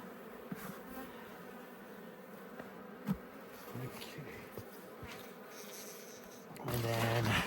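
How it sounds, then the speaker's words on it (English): Honeybees buzz as a steady, close drone throughout a late-winter hive cluster check, with scattered clicks and knocks of handling, swelling into a louder, denser burst of buzzing near the end. "So you can see I'm killing some bees,"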